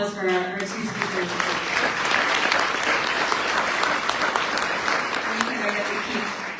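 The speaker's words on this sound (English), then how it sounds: "One more round of applause for our two speakers." Audience applause for two speakers at a public forum on housing affordability, a steady dense clapping that holds for several seconds, with voices faintly audible underneath at the start.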